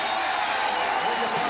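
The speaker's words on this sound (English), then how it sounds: "the crowd on the home side giving their defense a big cheer" Home crowd at a 2001 college football game between Delaware and Georgia Southern roars steadily for its defense after back-to-back sacks, a broad sustained cheer filling the stadium throughout.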